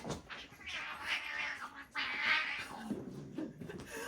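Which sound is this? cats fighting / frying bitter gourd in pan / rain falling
cats fighting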